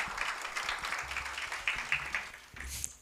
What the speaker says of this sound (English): Let's give a round of applause for all the panelists.